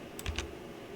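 A few quick clicks of a computer keyboard's plus key being pressed, three close taps in a row at moderate level over a faint background hiss, with no talking.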